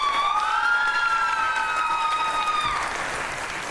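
Studio audience applause at a Persian pantomime league game show, clapping loud and steady throughout with high whistle-like tones gliding over it before fading slightly.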